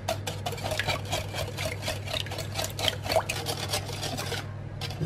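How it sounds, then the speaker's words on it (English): Chocolate chip bread batter, gluten free, being whisked smooth in a bowl: rapid, regular wet tapping strokes of the whisk against the bowl, close and continuous over a low steady hum. "we'll whisk it until it's smooth"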